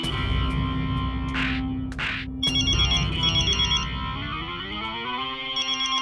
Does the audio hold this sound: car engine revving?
no